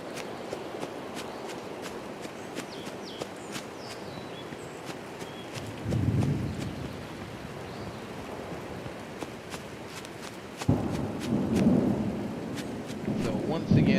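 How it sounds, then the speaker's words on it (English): Rain and thunder ambience from the video game Open Country: a steady wash of rain with low thunder rumbles swelling twice, the second one louder and longer. "how I love the rain"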